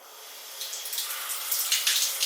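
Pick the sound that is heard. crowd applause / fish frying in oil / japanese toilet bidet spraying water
japanese toilet bidet spraying water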